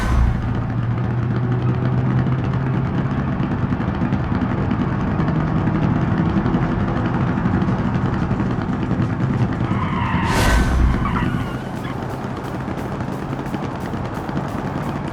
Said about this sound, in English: we have a flat tire